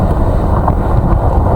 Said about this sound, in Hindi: बालासोर में तेज हवाओं के साथ बारिश हो रही है।